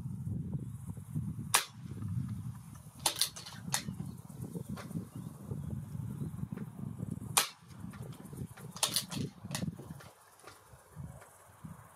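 A 4.5 caliber air rifle fires at a target 100 m away on a windy day. Several sharp, close cracks come at irregular intervals over low rumbling wind noise, some in quick pairs.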